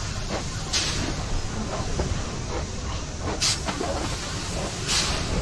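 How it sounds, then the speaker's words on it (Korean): A train departs in the video game Poppy Playtime Chapter 2, a dense continuous rumble with a few short bursts of hissing steam, steady and fairly loud throughout. "그렇게 출발하는 기차."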